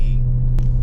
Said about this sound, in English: The car sounds dope. The pops and bangs are more pronounced